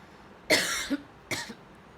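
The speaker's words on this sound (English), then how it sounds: "I got myself a cough" Two short, harsh coughs up close, separated by a brief pause, in an otherwise quiet room.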